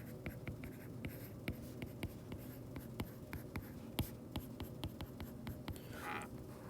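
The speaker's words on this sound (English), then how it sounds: "Let's go ahead and write that down." A pen scratches out a trigonometry equation on paper, quiet close strokes and taps in an irregular rhythm, with no talking.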